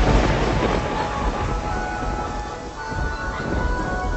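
Steady rain hiss with a low rumble underneath, continuous and fairly loud throughout, with no distinct thunderclap standing out.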